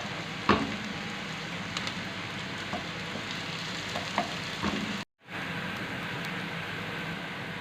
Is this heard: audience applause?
no